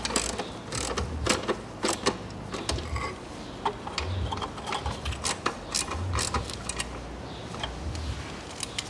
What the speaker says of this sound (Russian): Теперь подтягиваю вот эти болтики.